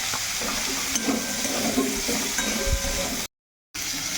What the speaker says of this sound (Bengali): এই আলুটাও আবার একটু ভেজে নেব